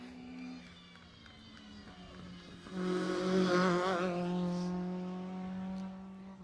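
A Mini rally car at a live rally stage engine note rising as it approaches and passes, with a strong revving surge mid-clip and a fading tail, heard from the roadside.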